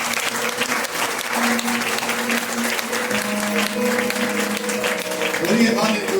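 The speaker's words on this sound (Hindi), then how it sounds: "ताली बजाइए उसके लिए" A church congregation at a Holy Communion service claps together in a steady, sustained round, the clapping close and full while a voice and a held tone carry on underneath it.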